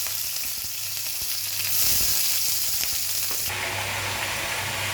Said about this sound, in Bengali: কাঁচামরিচ, শুকনো মরিচগুলো কেটে ভেজে নিচ্ছি, একটু ব্রাউন কালার করে ভেজে নিচ্ছি